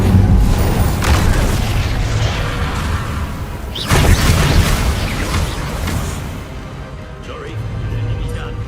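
A fiery Incendio spell blast in Hogwarts Legacy bursts as a deep, loud boom with a whooshing rush, set amid constant heavy combat noise, with a second blast swelling midway.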